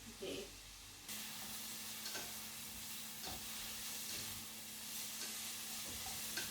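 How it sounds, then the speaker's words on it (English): Onions sizzle steadily in a pan while being stirred, a close, continuous frying hiss with soft scraping and clinking of the utensil recurring throughout. "I'm just mixing the onions to make sure nothing burns"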